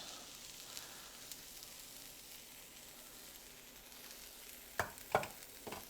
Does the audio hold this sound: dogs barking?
no